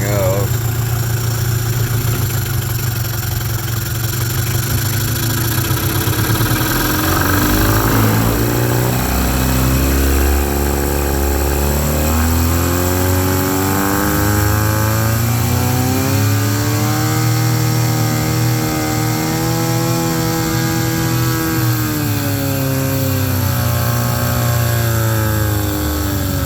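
A 1997/98 Mercury 15hp long-shaft two-stroke outboard motor running at slow throttle in a test tank: a loud, close, buzzing engine drone whose pitch wavers and rises and falls continuously, with occasional talking.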